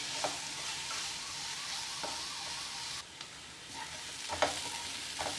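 Onion, ginger and garlic fry with a steady sizzle while a spoon scrapes and stirs the pan in several distinct knocks, no one speaking.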